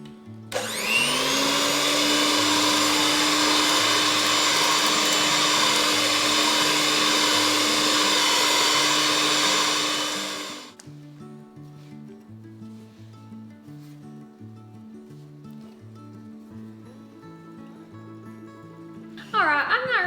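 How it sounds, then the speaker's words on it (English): A hand mixer beats cinnamon roll dough with a loud, steady, high-pitched motor whine for about ten seconds, then winds down and stops, leaving soft background music playing. "Now we're going to use our hand mixer to mix this together"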